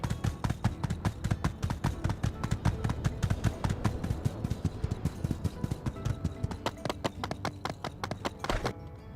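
A horse gallops in My Time at Sandrock, its hooves making a fast, even, close clip-clop rhythm that runs steadily throughout and breaks off near the end.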